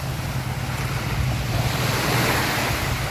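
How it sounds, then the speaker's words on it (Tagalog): Loud, constant rush of a strong churning water current and waves near an island, heard from a small boat, with wind noise roaring steadily throughout. "malakas na yung agos ng tubig."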